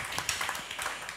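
Audience applause at a live panel discussion, a short burst of scattered, fairly dense clapping heard at moderate volume with no voices over it.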